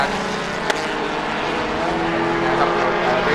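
A loud, buzzing rotary-engined race car roars past during a race at Chang International Circuit, Thailand, its high-revving drone steady and close, with a brief sharp click early on.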